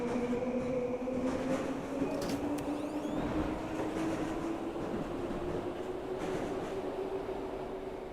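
In the Train Sim World 5 video game, a modded Class 165 diesel train runs with a steady low hum and a rising motor whine. Faint clicks and rattles sit underneath, with no talk.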